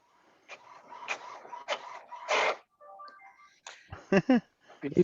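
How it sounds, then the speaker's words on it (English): An office printer runs in several rhythmic bursts of mechanical whirring and clattering, then a few soft tonal chirps, and close voices cut in briefly at the end. "Printer. That's a printer."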